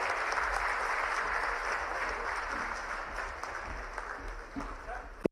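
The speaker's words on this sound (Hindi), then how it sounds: "एक बार जोरदार तालियां बजाएं।" Audience at a government ceremony in Balaghat honouring security personnel claps in a steady, broad wash that gradually thins and tapers off, sounding somewhat distant.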